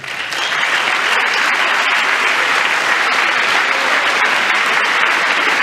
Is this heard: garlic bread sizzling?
no